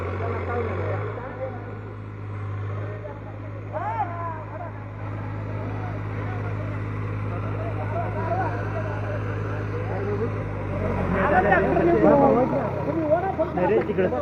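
A tractor engine idles in a low, steady rumble while people nearby talk over it as they work to get the stuck vehicle out; near the end the engine grows louder and rougher, as if revving.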